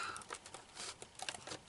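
Close, crisp crinkling and snipping of sealed plastic packaging being cut open with scissors, a few sharp bursts over about two seconds.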